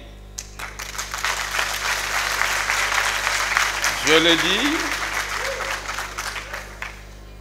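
A youth audience at an opening ceremony in Senegal applauds with a broad, sustained wash of clapping, while someone speaks over it through a public-address system.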